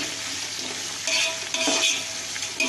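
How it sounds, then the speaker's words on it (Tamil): About a kilogram of onions frying for biryani for eight people, a dense steady sizzle with bursts of scraping as the onions are stirred, close and loud. "இது 1 கிலோ அளவுக்கு நல்லா ஆனியன் நல்லா வதங்கணும்."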